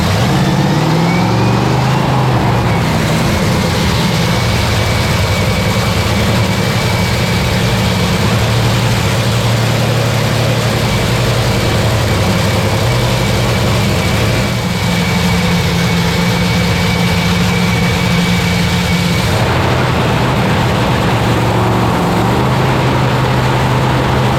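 Drag racing car engine idling at the US Nationals at Indy, a loud, steady low rumble with a constant tone, briefly shifting pitch near the start and end, with no talk over it.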